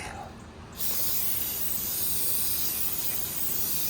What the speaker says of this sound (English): You have to clean it with brake pads cleaner because they have oil residue.